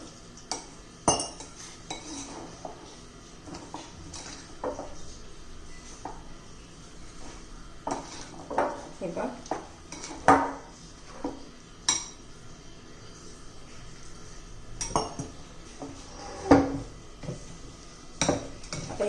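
A spoon mixes rava and besan chilla batter in a bowl, making irregular clinks and scraping knocks against the bowl over a quiet background, with brief pauses between bursts of stirring.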